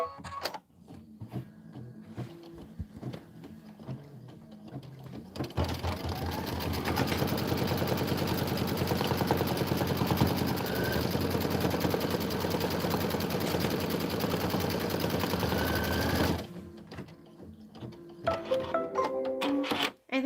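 An embroidery machine runs a fast, steady mechanical stitching chatter for about eleven seconds while sewing a placement line on fabric, close and moderately loud, with quieter handling sounds before and after.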